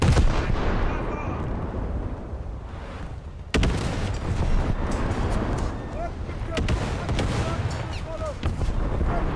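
Heavy blasts and booming gunfire from a direct hit on a boat in a naval video game, a sudden loud impact jolting through ongoing rumbling battle noise, with voices talking over it.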